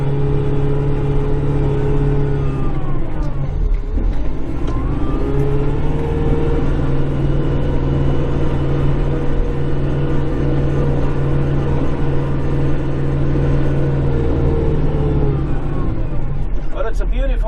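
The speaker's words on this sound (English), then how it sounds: "and then I'll back in with the snow blower, and I'll blow it under the tree" A snow blower engine runs steadily close by on a calm winter morning, a constant droning hum that dips briefly around the fourth second before resuming, loud and continuous throughout.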